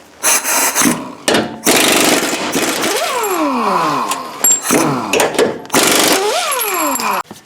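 Power tool bursts, likely an impact wrench, take off the 21mm control arm bolts on a Chevy Trailblazer, coming in several loud, close runs with falling whines as the tool spins down between them.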